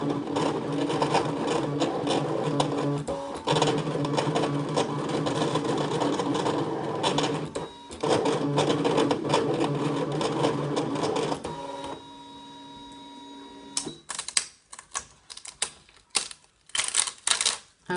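A ScanNCut cutting machine works through custom shapes with rapid mechanical buzzing and clicking bursts, steady at first, then stopping and restarting in short choppy runs near the end.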